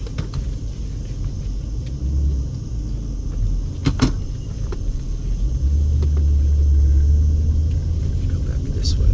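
A car driving at night along a Las Vegas residential avenue while turning around, with a steady low engine and road rumble throughout, swelling louder toward the end, and a few faint knocks and clicks from inside the cabin.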